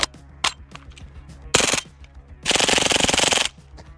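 A firearm fires in two rapid full-auto-style bursts after a couple of single sharp shots, loud and close, with the second burst lasting about a second as a fast, even rattle.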